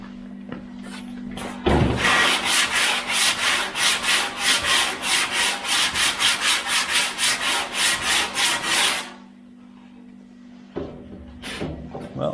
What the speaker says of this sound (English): Let me get the sanding block on that and we'll see what we've done.